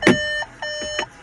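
Volkswagen parking sensor button sounding a close, clear electronic beep tone, repeated about three times in quick succession, with no talking.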